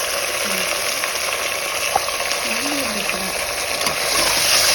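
Mutton mixed with masala in a hot pan, the steady loud sizzle broken by repeated stirring scrapes and a sharp knock near two seconds, with faint background voice or hum underneath.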